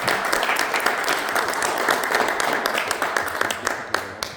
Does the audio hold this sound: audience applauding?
yes